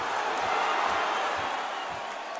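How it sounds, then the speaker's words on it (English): Crowd noise in a theatre arena from a boxing video game: a steady, dense roar of many voices filling the venue, loud and continuous without break. "you can hear everybody in the crowd"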